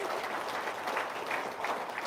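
Audience applause at a talk on parenting and Quran recitation, a steady wash of many hands clapping at moderate level throughout, fairly close and without talk over it.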